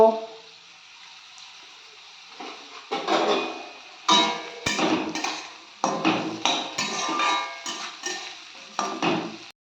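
Peas, capsicum and other vegetables frying with salt in a pan for fried rice, a spatula clacking and scraping against the pan in irregular sharp knocks, close by, with a faint sizzle underneath.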